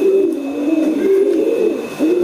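A pigeon coos continuously and steadily up close, its low, rolling call loud and clear with no other sounds.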